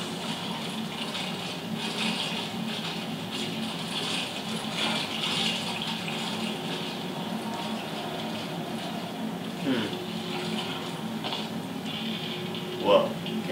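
Water keeps running from an outlet that won't shut off in the Portal 2 game world, a steady broadband gush under occasional talk, with a brief splash or clunk near the end.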